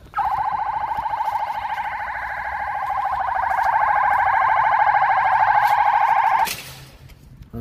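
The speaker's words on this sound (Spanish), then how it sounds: "me olvidé de cerrarla, así que suena la alarma" A loud electronic alarm rings at an indoor basketball court in a California clubhouse, with a rapid warbling tone for several seconds, then stops abruptly, leaving a faint echoing room.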